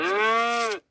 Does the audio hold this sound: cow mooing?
yes